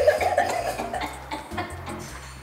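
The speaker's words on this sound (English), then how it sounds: "To do a more aggressive slurp" At a coffee cupping, a taster takes an aggressive slurp from a spoon: a short, harsh, noisy burst of sucked air and liquid, heard close up, followed by a couple of fainter rough sounds.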